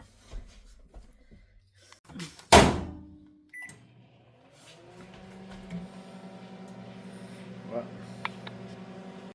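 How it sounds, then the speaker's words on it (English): A microwave oven cooking a potato hums steadily after a loud clunk of the door and a beep, its low drone running on with faint voices early on. "the easiest way that we feel like to do it today is pop in the microwave"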